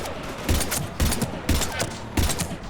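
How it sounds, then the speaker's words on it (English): Gunfire in Mass Effect 3 crackles in loud, repeated bursts roughly every half second, heavy and close, over a rumbling battle background. "we're taking heavy fire"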